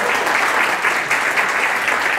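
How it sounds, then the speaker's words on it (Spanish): Guests at a graduation party clap together in a dense, even burst of applause that stays steady and fairly loud throughout. "quiero pedir un fuerte aplauso"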